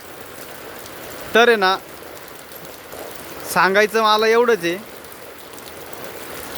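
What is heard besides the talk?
heavy rain falling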